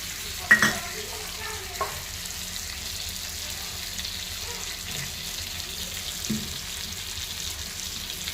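Nut and poppy seed paste stirred into softened eggplant frying in a pan, with a soft continuous sizzle, a few sharp spoon scrapes and knocks near the start and a couple more later, no talking.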